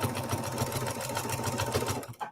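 A sewing machine quilts a baby blanket, running steadily with a fast, even motor hum and rapid needle chatter throughout, close and fairly loud, easing off just at the end.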